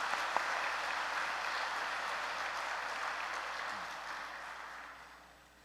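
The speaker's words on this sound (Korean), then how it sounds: "우리 참부모님께 큰 박수를 올려보내드리겠습니다" Steady applause from a large crowd, a dense wash of clapping that holds for several seconds before tapering off toward the end.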